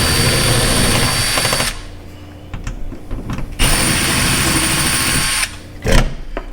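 A power drill backs out the screws of an apartment doorknob in two long, loud whirring runs separated by a quieter pause with small clicks and handling noises, then a brief final burst.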